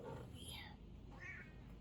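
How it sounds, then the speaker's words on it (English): Upset cat meowing with drawn-out wavering cries at close range, over a steady low background hum. "Kitty she's so upset"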